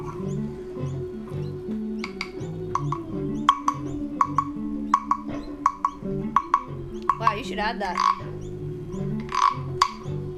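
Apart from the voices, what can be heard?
hollow frog-shaped percussion instrument being played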